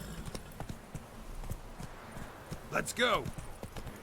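Roach, the horse in The Witcher video game, clip-clops along in a steady hoof rhythm, with a short whinny rising near the end and a voice talking over the hoofbeats.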